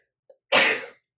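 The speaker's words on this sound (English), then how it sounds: "I have a sneeze coming." One sharp sneeze bursts out close up after a tiny intake of breath, brief and loud, alone in an otherwise quiet room.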